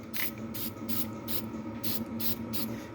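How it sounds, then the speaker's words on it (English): CRC rust inhibitor sprayed from an aerosol can onto freshly worked truck parts, about seven short hissing bursts in a steady rhythm, close and fairly quiet over a low hum. "spray everything I just worked on with the CRC to pretty much stop the rust from coming back"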